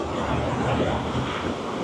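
Continuous rushing water of a river with small rapids in the Alaskan rainforest near Ketchikan, a close, steady broadband wash without breaks.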